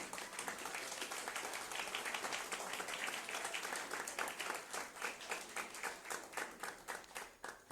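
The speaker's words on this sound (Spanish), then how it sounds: "Dele ese aplauso al Rey." A church congregation claps together during a sermon, a fairly faint, dense applause that gradually settles into a more rhythmic, unified clapping toward the end, with no talking.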